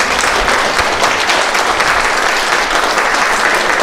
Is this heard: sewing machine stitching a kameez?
no